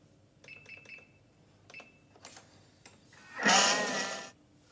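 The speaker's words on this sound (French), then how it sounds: "Et je vais remélanger 10 secondes, vitesse 5." Stollen dough is remixed in a kitchen mixer at speed 5. A few light clicks and taps come first, then a short, fairly loud whirring burst of about a second.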